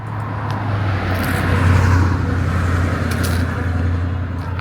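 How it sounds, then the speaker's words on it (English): A red Daimler SP250 sports car drives into a car show field, its engine a steady close hum and rumble that swells slightly midway, with no talking. "I see a Daimler SP250 coming this way, a nice red one."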